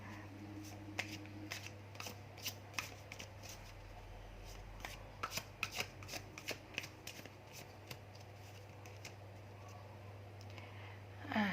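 Tarot cards shuffled by hand in repeated crisp riffles and flicks over a steady low hum, fairly faint and close, with no talking.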